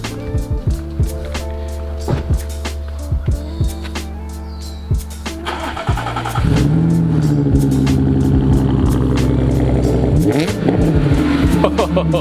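A heavily modified, boosted Subaru BRZ with an aftermarket exhaust revs in a garage, with sharp throttle blips and crackles followed by a louder sustained roar, close and loud.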